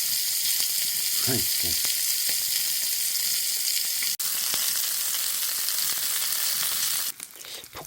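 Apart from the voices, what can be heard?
chopped green onions grilling and sizzling in a pan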